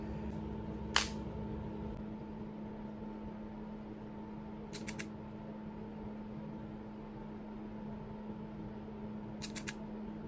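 A camera shutter clicking faintly three times, once as a single sharp snap and later as two quick bursts of rapid clicks, over a steady low room hum during a makeup flash test.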